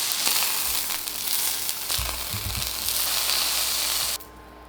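Pork tenderloin searing in a hot pan gives a close, loud, continuous sizzle with a few low thumps partway through, then cuts off abruptly near the end.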